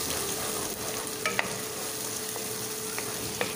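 Blended onion paste fries in a pan for a garlic prawn dish, a steady close sizzle with a few faint scraping taps from the spoon as it is stirred.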